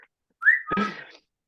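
A single short human whistle, a quick rising note followed by a brief breathy trail, close and clear against silence.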